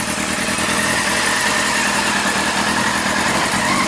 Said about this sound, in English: it's already idling significantly better